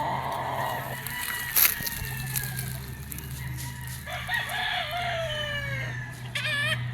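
Sweater gamefowl roosters at a game farm crowing loudly in drawn-out calls, with clucking and a honking bird in the background.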